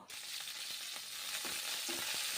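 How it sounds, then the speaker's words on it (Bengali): Black cumin seeds (kalo jeera) crackle and sizzle in hot oil, a steady broadband frying hiss with faint scattered pops, close and continuous, no voices. "কালো জিরে ফোড়ন দিচ্ছি। তেল ভালো করে গরম করে নেব প্রথমে"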